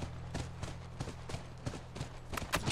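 Horse hooves thud in a soft, uneven rhythm near a ranch in the video game The Last of Us, muffled beneath a low steady hum.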